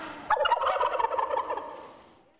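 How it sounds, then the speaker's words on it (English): Turkeys gobble loudly and close by: the 2017 National Thanksgiving Turkey and its alternate, pardoned and living at Virginia Tech in Blacksburg. The gobbling comes as a rapid, warbling burst and then fades out, with no talking over it. "They sound happy. That's the 2017 National Thanksgiving Turkey Drumstick and his alternate wishbone"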